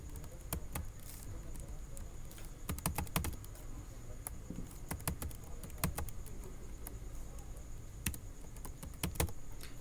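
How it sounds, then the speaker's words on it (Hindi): Typing on a computer keyboard, with rapid irregular key clicks in bursts, close and fairly crisp, alone without talk. "मैं यहाँ पे कोई भी टेक्स्ट को टाइप कर देता हूँ।"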